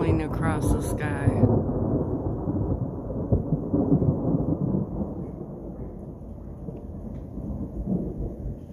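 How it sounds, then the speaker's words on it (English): Deep thunder rolls on and on through a storm, a low, heavy rumble that starts loud and slowly fades, with light rain beneath and a voice briefly heard at the start. "Literally hear it rolling across the sky."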